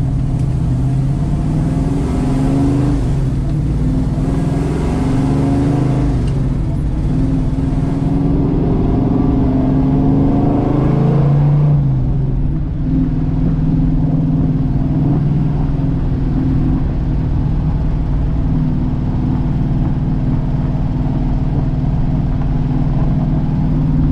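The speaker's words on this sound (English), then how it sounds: "I do hear that exhaust leak under the hood there." A car with an exhaust leak under the hood cruises along an open road, its engine droning steadily and loudly with a brief rise in revs, and no voices over it.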